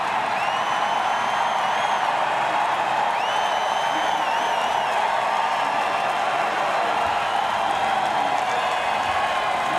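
A race crowd at a NASCAR event roars in a steady, dense wash of noise, with a few high whistles rising above it, loud and continuous throughout.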